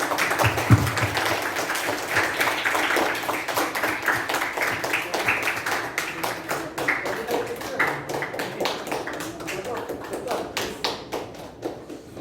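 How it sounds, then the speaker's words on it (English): A round of applause at a youth leadership program event, with many hands clapping in a dense, steady patter that carries on for several seconds and thins out slightly toward the end. "Round of applause."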